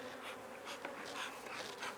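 Honey bees buzzing in a hive as nurse bees sit above the queen excluder, a steady dense hum close by and fairly loud with no talking.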